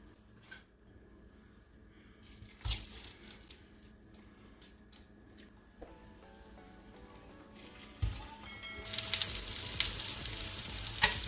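Egg-dipped shami kebabs hiss and sizzle in hot oil as they are laid into the pan one at a time, with a sharp burst of frying near the start and a louder, sustained sizzle building toward the end.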